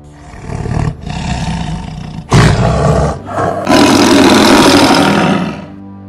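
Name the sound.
tiger roaring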